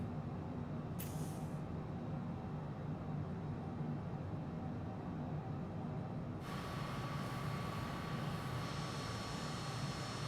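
MiG-21bis jet engine in Microsoft Flight Simulator 2020, a steady droning roar with a constant engine hum; a brighter high whine joins partway through, and no one talks.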